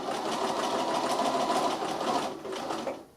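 A sewing machine runs steadily in a close zigzag stitch through the fabric of a handmade reusable shopping bag, anchoring it down, with a brief dip in the hum near the end and no talk.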